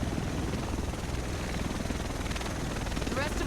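Helicopter rotor noise in the video game The Division, a steady loud thudding drone filling the scene as the aircraft arrives, with no talk over it.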